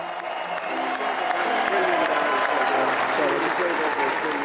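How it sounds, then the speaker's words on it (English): A crowd applauds and cheers as Trump signs an executive order withdrawing the U.S. from the Paris Climate Treaty, a steady, dense wash of clapping and voices that holds at an even loudness throughout. "As he signs, cheers echo from the crowd."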